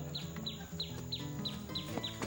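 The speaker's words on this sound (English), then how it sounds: "What kind of bird is that, Mr. Chuck?" A bird calls outdoors with short, sharp chirps repeated in a steady rhythm, roughly three a second. The calls are faint and sit over a low, humming background.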